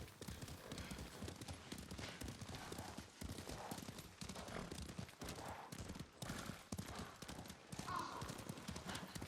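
Horses in Ghost of Tsushima clip-clop along a path toward a beach in a quick, continuous hoof rhythm, with occasional whinnies, muffled gunfire-like bursts and game dialogue over the top.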